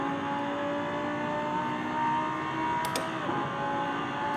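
An F1 car engine in a racing simulator, a steady high-pitched engine drone sustained at an even, fairly loud level, with a brief click near the end.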